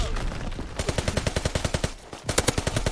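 Rapid machine-gun bursts in Call of Duty WWII Shadow War gameplay, loud, evenly spaced shots firing steadily, a brief lull near the two-second mark, then another burst.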